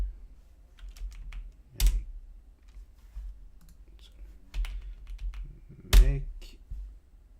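Command typed on a computer keyboard at a Linux desk: a few light close key clicks with two sharper louder key strikes, quiet room, no talk.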